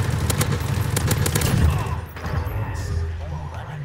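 Gunfire in a PS4 shooter game, a rapid burst of loud close shots followed by scattered further gunfire, with a voice talking over it.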